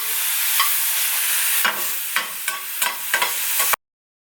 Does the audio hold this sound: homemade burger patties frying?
yes